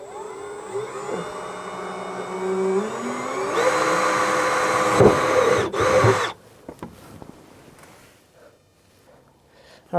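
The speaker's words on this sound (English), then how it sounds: "now we're going to go ahead and drill the 4 pilot holes for the safety chains." Power drill whines as it bores pilot holes into the bed of a 2017-2022 Ford F-350 for gooseneck hitch safety chains, rising in pitch over several seconds, then cutting off into quiet handling noises.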